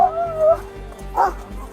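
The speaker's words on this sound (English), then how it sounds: "That's a good dog, Red." A police dog gives short, close barks and yips with whimpering tones, two or three bursts over a low steady rumble, during a tense police encounter.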